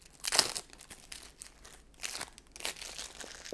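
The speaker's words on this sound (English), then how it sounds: "Opening up decks of cards" New decks of Game of Thrones Monopoly cards being unwrapped, giving sharp crinkles of plastic wrapping in several close, uneven bursts with brief pauses between them.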